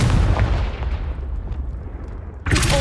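Explosive Confringo spell blast in the Hogwarts Legacy game: a loud, sustained rumbling boom that slowly fades over a couple of seconds, then a fresh sharp burst at the end.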